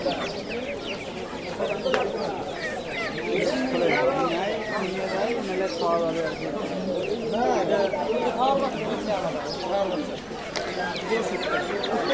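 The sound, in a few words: chickens clucking at poultry market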